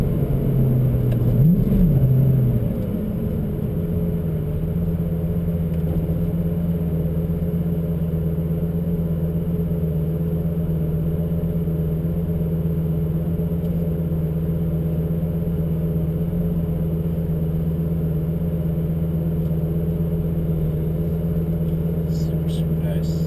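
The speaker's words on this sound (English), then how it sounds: "I love that sound when you downshifts this car." A Lamborghini Gallardo engine revs briefly as it downshifts, then settles into a loud, steady droning hum that continues throughout.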